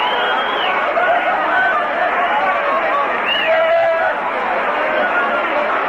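A large crowd at Shea Stadium during a long, extra-inning Giants-Mets baseball game fills the air with a steady murmur of chatter, shouts and scattered whistles, loud and continuous.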